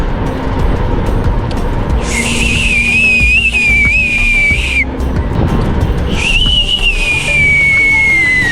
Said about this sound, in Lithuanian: mokomės švilpaut